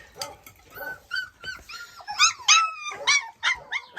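Several small Laika puppies whimpering and yipping close by, high thin cries coming in quick uneven bursts that grow louder and denser toward the end.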